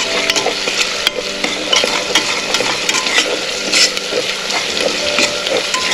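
Green garlic sautéing in a pan for a mixed vegetable dish: a constant close sizzle with busy spoon stirring and scraping clicks throughout.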